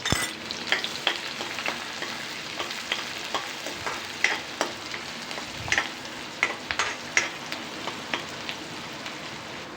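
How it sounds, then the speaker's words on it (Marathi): Onions fry in hot oil in a home kitchen, a steady close sizzle with frequent sharp crackles and pops and occasional stirring, no voices. "आता कांदा तेलामध्ये परतून घेऊ."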